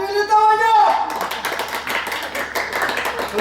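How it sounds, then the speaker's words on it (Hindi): Audience applause breaks out at a stage play about Gandhi and Godse, a dense run of clapping that follows a performer's voice and keeps going loud and steady to the end. "ताली मिली तो बजाओ।"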